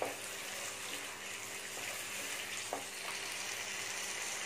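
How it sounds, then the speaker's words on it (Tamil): Chopped coriander and mint frying in a pan with Chinese-style chicken masala, a soft continuous sizzle with a few faint stirring clicks, quiet and close. "1 நிமிஷம் அது ஃப்ரை ஆனால் போதும்."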